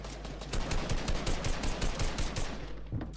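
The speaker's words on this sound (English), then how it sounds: "I'm gonna shoot you down" Rapid bursts of automatic gunfire from a Fortnite match, a dense, loud stream of shots that runs almost unbroken for about three seconds.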